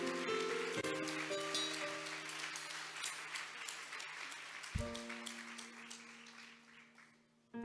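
A church congregation applauds in praise during a worship service, a faint, steady patter of many hands under sustained keyboard chords that shift partway through.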